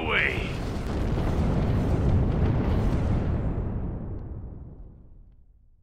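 Heavy bomb blasts boom and rumble continuously in the space strategy game Sins of a Solar Empire: Rebellion, a loud sustained roar that slowly fades out, with a brief high whistling tone at the very start.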